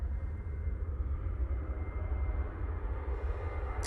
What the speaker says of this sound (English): there's another TUI 737